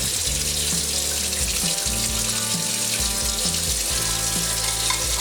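A Farberware Classic Series saucepan gets washed under running water, a steady close rush of tap water with occasional knocks and shifts as the pan is handled.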